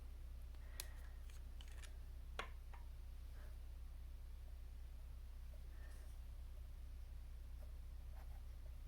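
A Pilot 78G fountain pen with an extra fine stainless steel nib writes on paper in green ink, making faint, sparse scratchy strokes and small ticks against a quiet, steady background, with no talking.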